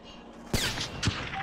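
Gunfire in the video game Ground War: two sharp broadband bursts about half a second apart, loud and close, over a steady game noise bed with no speech.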